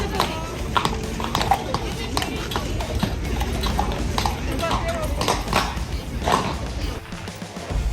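Royal guard horse hooves clip-clopping on hard ground, a steady run of sharp near hoof strikes with crowd noise and talking underneath.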